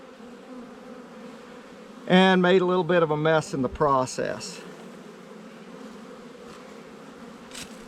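Honey bees mass around a hive box after the field force crowds in, a steady low buzzing drone running throughout, with someone talking briefly over it midway.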